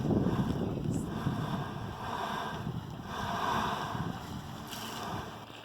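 Veteran Geyser in Yellowstone works hard, a rough, breathy churning and gurgling roar that swells and eases in surges, mixed with wind buffeting the microphone.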